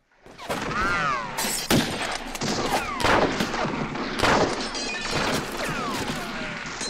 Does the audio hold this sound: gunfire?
yes